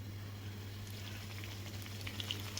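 Hot oil sizzles and bubbles in a kadhai while rice-flour-free coriander vadis are being fried, a steady soft crackling over a low hum with no talk.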